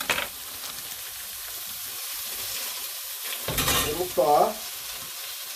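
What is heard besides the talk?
frozen food sizzling as it cooks in a pan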